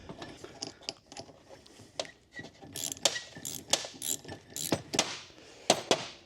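Old bolts being loosened with a ratchet on a Mitsubishi Conquest turbo during a rebuild, a quiet run of close metallic clicks and clacks in irregular bursts.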